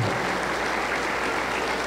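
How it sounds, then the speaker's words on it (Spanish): A church congregation applauds, a dense, steady wash of clapping that holds at an even, loud level from start to finish. "Aplauso para el Señor Jesús"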